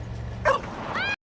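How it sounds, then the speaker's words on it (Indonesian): A dog in a film gives a short bark followed by a whining yip, close and clear over a low background hum, then cuts off abruptly. "si anjing menggonggong"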